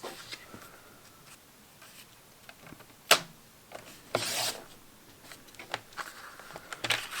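Paper being cut for a junk journal folio, with soft scratchy strokes and a couple of sharper, louder snips and rustles, close and quiet, with no talking.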